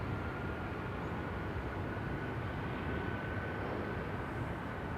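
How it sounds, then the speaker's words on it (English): Aircraft engines starting up at Amsterdam Schiphol Airport, a steady broad roar that stays unchanged throughout, with a faint whine running above it and no voices. "it sounds like I am hearing engines being started"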